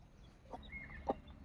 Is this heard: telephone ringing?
no